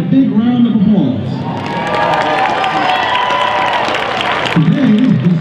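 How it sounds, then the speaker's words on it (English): Loud crowd cheering and applause from a halftime audience at an NSU vs. SFA football game, greeting the NSU Jazz Band; a steady roar of clapping and shouting fills the whole stretch, with an announcer's voice at the start and end. "Let's give the NSU Jazz Band a big round of applause."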